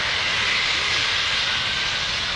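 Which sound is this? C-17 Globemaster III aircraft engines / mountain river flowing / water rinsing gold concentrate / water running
C-17 Globemaster III aircraft engines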